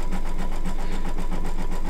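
An embroidery machine stitches out a reverse cutwork bookmark design in a quick, even rhythm of needle strokes, close and steady, with no talking.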